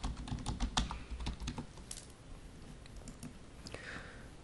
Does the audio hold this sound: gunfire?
no